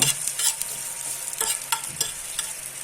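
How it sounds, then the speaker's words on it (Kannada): Onion, garlic and curry leaves frying in oil in a pan, steady sizzling with several sharp stirring clinks and scrapes, close and moderately loud with no voices. "ಈಗ ಇನ್ನೊಂದು ಸ್ವಲ್ಪ ಎಣ್ಣೆಯನ್ನು ಹಾಕಿ ಈರುಳ್ಳಿ, ಬೆಳ್ಳುಳ್ಳಿ ಮತ್ತು ಕರಿಬೇವಿನ ಸೊಪ್ಪನ್ನು ಸಪ್ರೇಟಾಗಿ ಹುರಿಬೇಕು"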